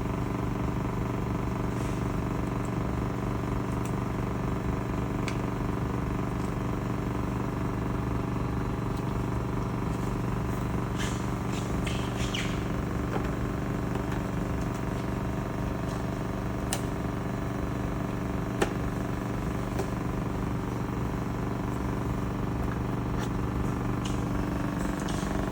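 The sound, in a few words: spin coater running during sample fabrication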